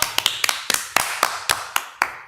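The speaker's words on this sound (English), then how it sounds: "Round of applause for Carl." Scattered, uneven claps and taps ring out close by, about ten sharp bursts over a couple of seconds, like a small group applauding a knitter named Carl.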